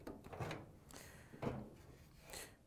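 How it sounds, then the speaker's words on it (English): A panel on a Samsung dryer is pulled forward, producing soft scraping and rubbing with a few dull knocks. It sounds close and quiet, with no talking. "we can pull a panel forward just far enough so we have access to the door switch"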